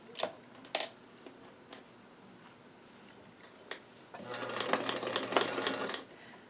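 A sewing machine stitches a doll dress from the wrong side with the tension set high: a few sharp ticks and clicks, then a steady, fairly quiet run of stitching for about two seconds.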